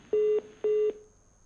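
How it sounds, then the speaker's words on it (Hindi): A telephone line tone on a broadcast debate call after the connection drops: two steady, clear electronic beeps, each about a quarter second long, sounding alone before the line goes quiet. "लगता है फोन लाइन में ये कनेक्शन कट गया है"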